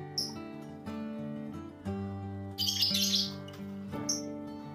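Nine-day-old canary chicks chirp in short high bursts a few times over steady background music.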